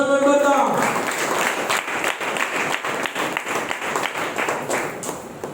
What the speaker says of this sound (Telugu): చప్పట్లు కొట్టేసి